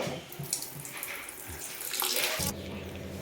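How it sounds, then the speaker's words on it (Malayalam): Tap water runs and splashes into a container nearby, the flow rising then shifting to a steadier stream partway through. "ഇനി നമ്മൾക്ക് വെള്ളം ഒഴിക്കാം"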